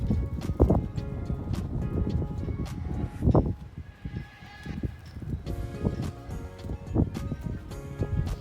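An off-the-track Thoroughbred horse walks with a steady, unhurried clip-clop of hooves, close and moderately loud, with a brief pause in the middle before the footfalls resume.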